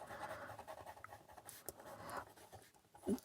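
Notes written by hand with a pen, giving a faint, soft scratching that runs steadily through the stretch with a few slightly sharper strokes near the end; nobody speaks.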